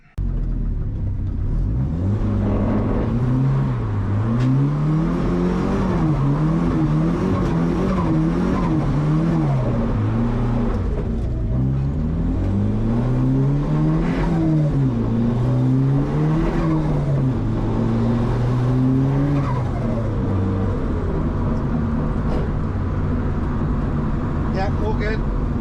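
A Volvo car fitted with a new turbo drives and accelerates, its engine rising in pitch through several gear pulls and then dropping back, loud and close from inside the cabin, with someone talking over it at times.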